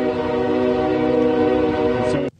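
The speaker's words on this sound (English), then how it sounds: "While testing, we could hear trains passing every minute, a haunting reminder of why we are here." A passing train sounds a long, loud, steady horn close by. The blast holds unbroken for about two seconds, then cuts off sharply.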